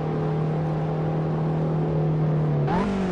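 Race car driven slowly in the racing game Assetto Corsa during a time attack: a steady, loud engine drone held at low revs, then a quick rise in pitch near the end as the throttle opens.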